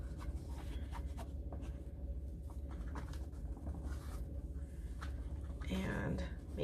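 A bone folder presses and rubs paper into the grooves of a junk journal book spine, making faint, soft scratchy strokes in quick repeated passes, with a low voice murmuring in the background.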